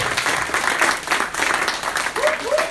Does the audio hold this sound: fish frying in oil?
no